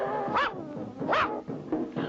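A cartoon dog, trapped down a chute in a haunted castle, barks three times in sharp, evenly spaced barks. Each bark is fairly loud and close.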